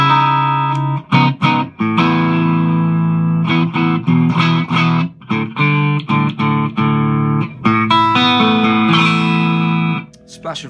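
Clean electric guitar tone through a Blackstar ID Core 100/150 high-power combo amp, a steady run of sustained chords and picked notes with brief gaps, loud and close, played alone.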